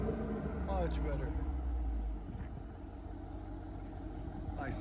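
A 2022 Dodge Durango SRT 392 with a 6.4L HEMI V8 and a Borla ATAK cat-back dual exhaust idles with a low, steady burble, which softens partway through.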